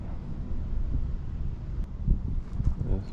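Wind gusting across the microphone beside a bank where someone stands fishing, a close rumbling buffet that swells in a few stronger bursts near the end with no talk.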